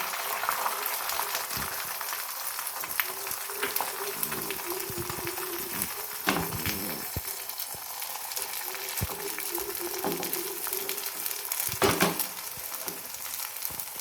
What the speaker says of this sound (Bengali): এখন দিয়ে দেব ফেটিয়ে রাখা ডিম।